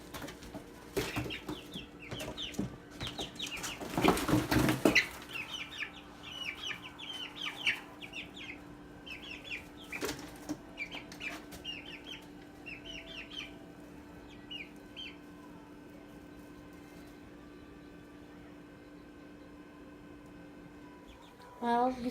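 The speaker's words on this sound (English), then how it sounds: "Oh my gosh, the chicken's getting out." Chickens cluck and squawk in a busy run of short calls, with a loud flurry near the start and chatter thinning toward the end, while a person talks at times over them.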